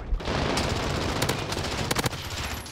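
P90 submachine gun in Modern Warfare firing in rapid sustained bursts, loud and close, with sharper cracks near the end and little talk.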